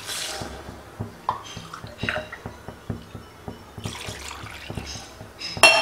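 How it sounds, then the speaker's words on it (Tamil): Water poured into a pot while cooking a rava dish, heard as irregular close splashes and trickling with small clinks scattered throughout. "இப்போ இதில் வந்து தண்ணி ஆட் பண்ணிக்கிறோம்."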